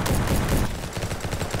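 Shotgun firing in a video game, a loud, close blast followed by a rapid train of sharp, repeated reports that trail off quickly.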